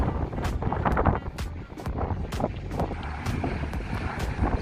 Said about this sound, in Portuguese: mais alguns segundos aí do avião taxiando aí na pista, se dirigindo aí até o estacionamento